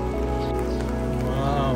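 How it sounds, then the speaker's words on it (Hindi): Heavy rain pours down steadily at close range, a dense continuous hiss of falling water with people talking over it. "इतनी बारिश हो रही है"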